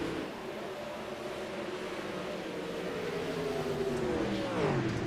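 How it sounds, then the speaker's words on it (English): A pack of race cars battling for position in a racing video game, a steady blended engine drone with rising and falling pitch as cars pass close by, no talking. "Gaggle of cars back here, all fighting for position."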